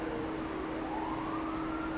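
An ambulance siren wails steadily, its rising and falling tone continuous under a broad wash of traffic noise, fairly distant and moderately loud throughout.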